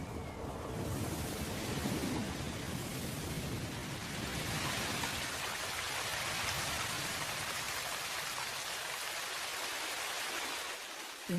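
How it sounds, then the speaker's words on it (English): Steady heavy rainfall, a dense continuous hiss of drops striking surfaces, loud and unbroken throughout. "But twice yearly, the landscape is freshened by rain."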